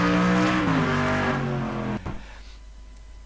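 A GT3 race car in the racing game Automobilista 2, heard from a chase camera: a loud engine holds high revs and drops pitch through downshifts, then cuts off abruptly after about two seconds, leaving a faint low rumble.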